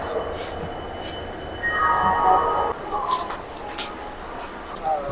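Inside a carriage of the SMVT Bengaluru SF Express, a steady rumble of the train carries under voices, with a distant horn-like tone in the middle and scattered clatters and knocks.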